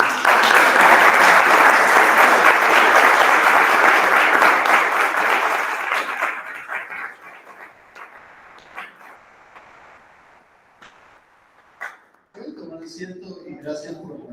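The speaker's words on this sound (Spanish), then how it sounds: "Y todos nosotros con un aplauso caluroso." Warm applause from a church congregation welcoming a couple, loud and steady for about six seconds before fading into scattered claps and quiet, with a voice speaking briefly at the end.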